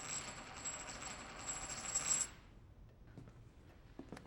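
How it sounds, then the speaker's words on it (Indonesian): A coin tossed before a horse race and dropping, heard as a bright metallic ringing shimmer lasting about two seconds, then settling into a few faint clinks against quiet background. "Setelah koin toss selesai"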